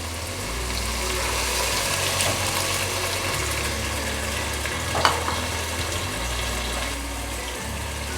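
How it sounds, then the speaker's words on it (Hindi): Beef yakhni stock poured into frying masala for yakhni pulao, a loud continuous sizzle and bubbling with a low pumping rumble, close up, no talking. "हम इसमें अब यखनी ऐड कर देंगे जो हमने पहले तैयार कर ली थी।"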